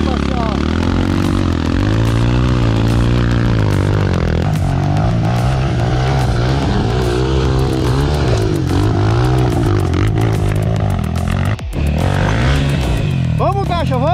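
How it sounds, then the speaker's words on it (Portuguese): A motorcycle engine revs and labors up and down continuously, rising and falling in pitch as the bike works over rough ground, with clattering throughout. "Levando a moto para passear."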